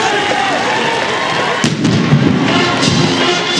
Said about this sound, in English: Did that cannon just scare you?